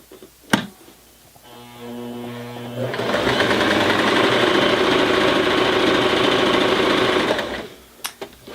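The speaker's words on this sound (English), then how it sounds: "We're going to fold it up and stitch through the 2 layers." A Janome 2212 sewing machine stitches through two folded layers of light to medium weight denim, a steady close mechanical whir running several seconds after a brief slower start, then stopping.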